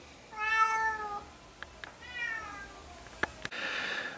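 Kitten meowing at feeding time indoors, with two drawn-out meows, the first louder and longer, then a few faint clicks and taps and a soft hiss of background noise.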